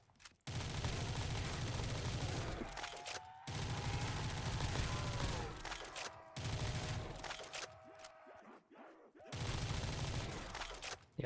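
M4 rifle gunfire in Black Ops 3 custom zombies comes as long sustained bursts of rapid automatic shots, loud and dense, broken by brief pauses between four main strings of fire.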